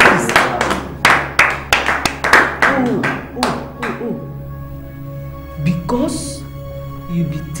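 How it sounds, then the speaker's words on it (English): A handful of sharp, separate hand claps ring out close by in an uneven burst over the first few seconds, then give way to talk. "I'm gonna clap! Clap for you!"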